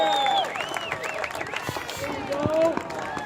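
Crowd at a track meet cheers a runner coming into the finish line: a dense, steady roar of voices with shrill whistles and shouts, mixed with clapping and babble, loud and close throughout.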